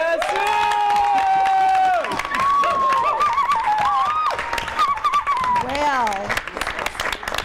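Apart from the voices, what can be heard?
round of applause from conference audience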